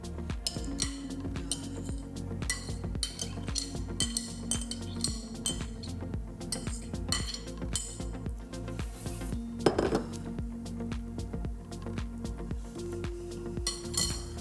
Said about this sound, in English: So we'll pop that into a serving bowl.